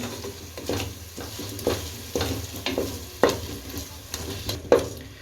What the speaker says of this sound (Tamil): இப்போ எல்லாத்தையும் சேர்த்து நல்லா வதக்கி விட்டுருவோம்